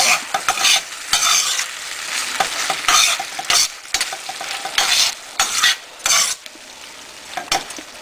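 Spaghetti sauce heating in a pan is stirred steadily, giving scraping strokes in uneven bursts over a constant close sizzle, with no talking.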